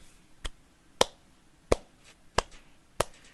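A mouth imitates the thin, stifled applause of an open mic audience of five to ten people, giving five sparse, sharp claps spaced roughly evenly against near silence.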